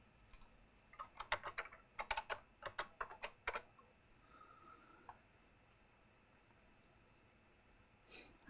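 Fingers type in quick bursts on a Mac computer keyboard, crisp clicking keystrokes close to the microphone, then a quiet pause with faint background hum.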